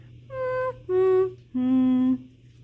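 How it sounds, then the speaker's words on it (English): Three sustained harmonica notes, each held about half a second with short gaps between them, played slowly and alone over a faint low hum. "I can play the harmonica. It sounds like this."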